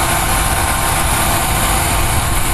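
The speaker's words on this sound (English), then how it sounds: "Engine sound is just wonderful." Steady, loud running of a 1992 Buick Regal Custom's 3.1 V6 engine, a dense, even drone with no change in pitch or level, with no voices.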